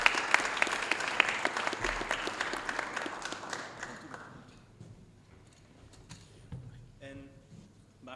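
Audience applause welcoming a guest on stage at a palaeontology award ceremony, a dense burst of clapping that starts loud and gradually thins and fades over several seconds.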